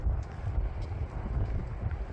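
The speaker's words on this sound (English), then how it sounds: "It is so cold and windy today." Strong, cold wind buffets the microphone outdoors, a steady low rumbling roar with gusty swells and no voices.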